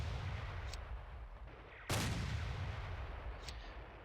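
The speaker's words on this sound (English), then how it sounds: "Fire with these Stugs." A StuG assault gun in the Steel Panthers wargame fires a single loud cannon shot midway, its boom trailing into a decaying rumble, with faint clicks before and after over low background hum.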